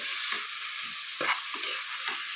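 Vegetables for a one-pot sambar rice sauté in hot oil in a cooker, a steady close sizzle broken by soft scraping stirs at irregular intervals.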